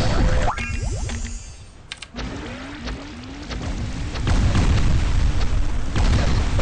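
A bomb detonates in the online game Bubble Fighter, giving heavy booming bursts with bouncy game effects and rising blips over a dense, loud game soundscape.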